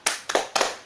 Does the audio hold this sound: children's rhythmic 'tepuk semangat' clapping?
yes